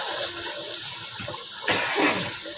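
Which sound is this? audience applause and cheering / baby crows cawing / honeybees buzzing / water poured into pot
water poured into pot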